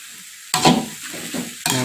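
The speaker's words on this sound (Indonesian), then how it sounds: "kita aduk" Food with soy sauce is stirred in a sizzling pan, a quiet hiss broken by several close scraping strokes of a utensil against the pan.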